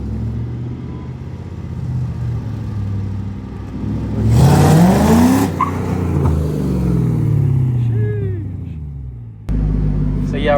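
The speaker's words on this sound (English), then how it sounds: "V8 in the Supra is insane." A Mark III Toyota Supra with a swapped 1UZ V8 rumbles past, its engine note swelling into a brief rev and then settling to a steady drone, close and fairly loud with some voices mixed in.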